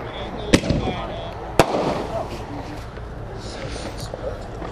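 Two sharp bursts from assorted artillery shell fireworks about a second apart, followed by fainter crackle, with someone talking over the outdoor background.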